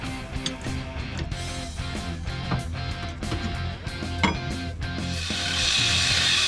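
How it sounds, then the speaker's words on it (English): Wrench work unbolting the upper control arm and track arm bracket on a Jeep XJ Dana 30 axle, with close metallic clicks, knocks and scraping over steady background noise, no talk. "now I unbolt my upper control arm and track arm bracket so I can cut off the old mount"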